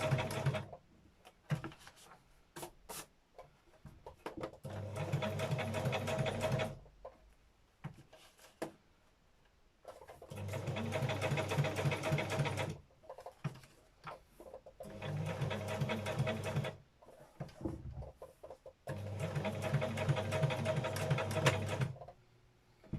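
A sewing machine stitches a tag for a bird journal in several bursts of steady mechanical chatter, each a few seconds long, separated by quiet pauses and small handling noises.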